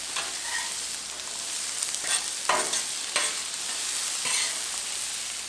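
Shrimp stir fry vegetables cook on a Blackstone griddle with a constant close hiss of sizzling, broken by several scraping and stirring strokes from a spatula, no voices present.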